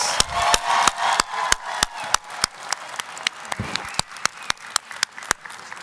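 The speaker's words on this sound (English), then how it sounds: "Can we get one more round of applause?" Scattered applause at a doctoral graduation ceremony thins out into sharp, evenly spaced claps ringing out one after another in a steady beat.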